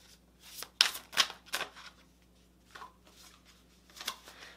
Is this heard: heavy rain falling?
no